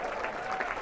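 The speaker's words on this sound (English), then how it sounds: "Shout out and a round of applause for all single parents." A theater audience at a comedy show in Radio City Music Hall claps in a brief, dense burst of applause, heard alone with no voice over it.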